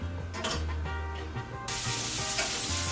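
Onion dropped into a hot pan for a burrito filling sets off a loud, close sizzle that jumps suddenly and keeps hissing steadily over a low background hum.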